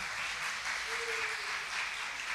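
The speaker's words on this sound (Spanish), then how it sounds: "Un fuerte aplauso, por favor." A studio audience applauds at the grand final of a school quiz show, producing a steady, dense wash of clapping that holds evenly for the whole stretch at moderate loudness.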